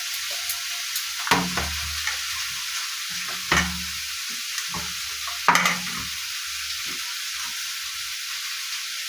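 Chow mein noodles being stirred and tossed in a pan, with intermittent scraping and clattering bursts over a faint, steady frying hiss, close and fairly quiet.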